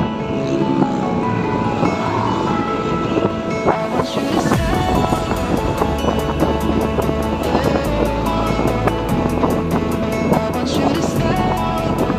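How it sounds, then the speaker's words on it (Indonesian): Strong afternoon wind roars steadily across the microphone on the Kopo flyover in Bandung while riding a 2020 Honda PCX scooter, with a continuous broadband rush, buffeting gusts and passing traffic rumble underneath. "angin cukup kencang di sore ini guys"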